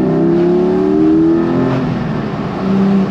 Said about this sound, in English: it's got a proper Porsche noise, hasn't it?